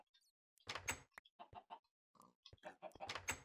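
Pigs, including a baby pig, oinking in Minecraft alongside other farm animals, short separate grunts and snorts in bursts against a quiet background.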